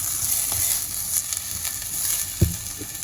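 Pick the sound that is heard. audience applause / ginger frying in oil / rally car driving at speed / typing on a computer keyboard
ginger frying in oil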